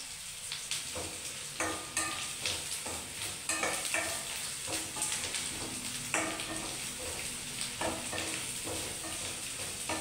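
Chopped onions and green chillies for chicken fry sizzle steadily in hot oil, with a spoon or spatula repeatedly scraping and stirring the pan in an even, close rhythm and no talking.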